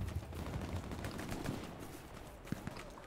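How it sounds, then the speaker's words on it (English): Distant rapid gunfire crackles in the Hell Let Loose game during a battle at Mortain, steady bursts with a few louder nearer shots over a dense rumbling background. "Smoke and shooting going on over here."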